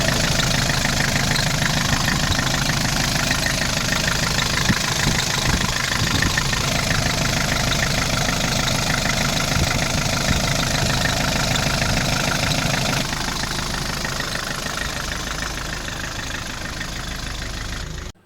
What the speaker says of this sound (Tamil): ஒரு சாதா டிஏ இன்ஜின் இன்ஜினோட நாய்ஸ் எப்படி இருக்குது அப்படின்னு சொல்லி கேட்டிருப்பீங்க